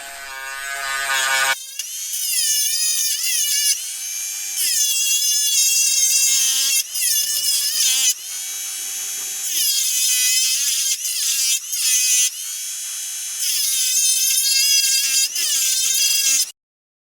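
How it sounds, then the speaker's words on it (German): Small teeth being ground into a metal fitting for a homemade wooden mallet, a high, whining rotary-tool buzz in repeated bursts with brief pauses, steady and close. "In mein Fitting schleife ich jetzt kleine Zähne hinein."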